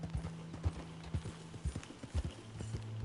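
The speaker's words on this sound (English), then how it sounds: "you gotta try to get your horse to climb 75-degree slopes" Horse hooves clip-clopping in an irregular rhythm as the animal scrambles up a steep 75-degree slope in the video game Red Dead Redemption 2, with close, loud, scattered strikes and a low sustained hum beneath.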